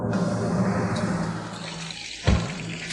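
Tap water runs steadily into a basin in an office setting, a continuous close splashing hiss that ends with a brief louder gurgle near the end.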